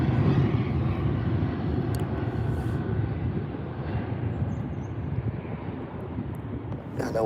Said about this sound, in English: Again, the Ryanair taking its time. Wheels up into the fog.